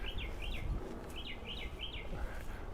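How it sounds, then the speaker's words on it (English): Small birds chirp in repeated quick rising-falling calls at a distance in Green-Wood Cemetery, Brooklyn, over a steady low outdoor rumble. "Oh, the birds are so chirpy right now."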